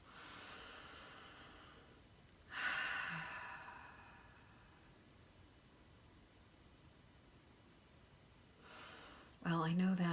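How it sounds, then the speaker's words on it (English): A slow, deep breath drawn in and let out during a calm relaxation moment, two soft airy swells with quiet pauses between, close and gentle, with no talking. "Taking a deep breath."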